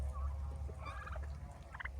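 A turkey gobbles and warbles in quick bursts over a low, steady rumble, the calls rising and falling near the end.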